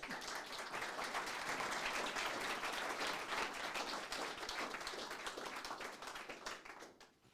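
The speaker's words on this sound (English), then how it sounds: "Applause." A small meetup audience in Zurich applauds after a tech talk, with steady, dense clapping that fills the room at an even level and then tapers off sharply at the end.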